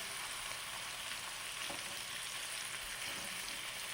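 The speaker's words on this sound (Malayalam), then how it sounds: "കുറച്ച് ഡീപ്പായിട്ട് തന്നെ ഫ്രൈ ചെയ്തെടുക്കണം കേട്ടോ." Dried shark pieces deep-frying in oil in a pan, added a few at a time, give a soft, continuous bubbling sizzle that stays faint and even throughout.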